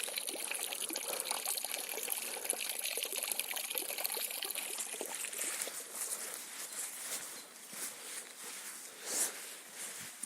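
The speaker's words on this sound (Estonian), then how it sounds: "Kusagil maa alt voolas juurde vett." Water trickles and pours steadily into the Elva river from an underground source where a marathon trail crosses, a dense close splashing that stays loud for about five seconds, then thins into softer, uneven dribbling with scattered splashes.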